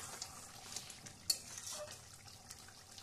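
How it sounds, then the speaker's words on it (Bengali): Liver and potato chorchori frying in a pan, a soft steady sizzle with a few faint clinks of a utensil against the pan. "এবার 10 মিনিটের জন্য ভেজে দেব"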